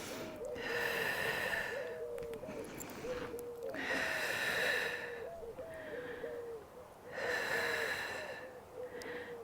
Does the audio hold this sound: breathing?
yes